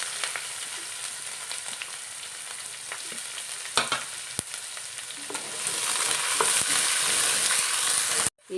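Onion frying in oil with chana dal and raw peanuts for tomato rice, a continuous close sizzle with occasional clicks of a stirring spoon, growing louder and brighter toward the end before stopping abruptly, no voices.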